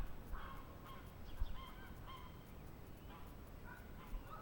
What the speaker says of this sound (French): Il y a des oies, il y a des canards